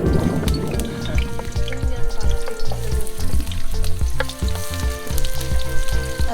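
Alamang shrimp paste frying in a hot pan over an open fire, a loud, continuous sizzle with crackling pops and some stirring scrapes, close up and without talk.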